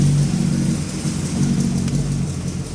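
A freshly rebuilt car engine with a newly broken-in camshaft runs steadily with a mid-pitched hum through its short span, swelling and easing slightly as it is taken through the gears.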